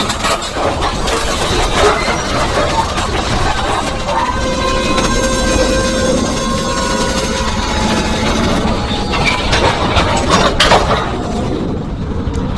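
A slow train rolls through Stone Avenue Station in LaGrange with a loud continuous rumble, grinding wheels and some squealing tones, up close.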